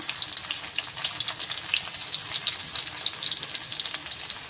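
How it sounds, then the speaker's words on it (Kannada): Crushed garlic with cumin and mustard seeds fries in oil on low heat, a close, even sizzle with tiny crackling pops running steadily throughout, no voices. "ಗ್ಯಾಸ ಸ್ವಲ್ಪ ಸಣ್ಣ ಇಟ್ಟೆ ಫ್ರೈ ಮಾಡ್ಕೋಬೇಕಾಗ್ತದ್ರಿ"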